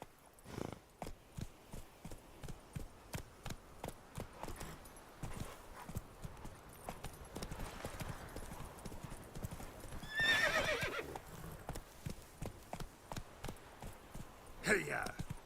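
A horse gallops in The Witcher 3, its rhythmic hoofbeats pounding steadily and close throughout, with a loud whinny midway and another near the end, while a man calls out over it.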